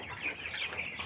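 Young chickens on a farm brooding area cluck and peep continuously at close range, a dense flock chatter with no voices present.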